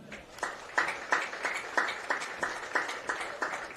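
Hands clap in a slow, even rhythm at a varsity high school football game ceremony, each beat distinct against a murmuring crowd in the background.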